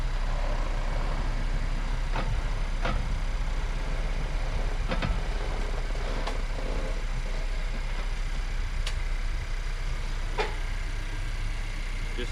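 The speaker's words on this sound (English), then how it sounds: "Now we're ready to back the vehicle off the ramps." A Honda CR-V, 2017–2022 generation, reverses slowly down off ramps after an oil change, its engine running at a steady low idle throughout, with a few faint clunks and creaks as the wheels roll off.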